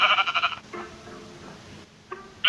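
Sheep bleating in two loud bursts, one at the start and one at the end, separated by quieter background noise and faint shorter calls.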